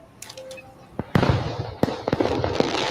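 Fireworks in an AI-generated Veo 3 video, heard as a burst of sharp cracks and pops that starts faintly and grows into a loud, dense crackling volley, with a voice faintly audible beneath.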